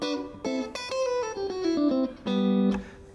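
An electric guitar played through a Red Plate RP5OR amp with a clean, standard blackface tone, a short phrase of ringing single notes and chords sliding downward, heard alone and up close.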